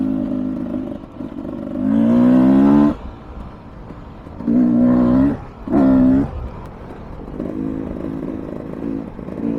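A 2023 Beta 300 Race Edition two-stroke dirt bike engine idles with a rough burble, then revs hard in three loud bursts, one long and two short, falling back to a steady idle between them.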